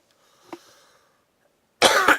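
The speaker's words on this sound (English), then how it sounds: "You hear me coughing." A faint short cough is followed by a loud burst of harsh coughing, two or three hacks close to the mic, with quiet pauses between.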